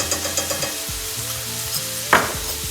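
Vegetables and garlic for pasta primavera frying in a pan, a close, steady sizzle with a few scraping stirs and one sharper spatter near the end.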